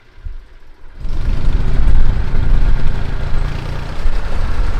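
Engine of a pluk-o-trak apple harvesting machine being moved between orchard fields, a steady loud rumbling drone that starts up after a quiet second and runs continuously, with wind noise around it.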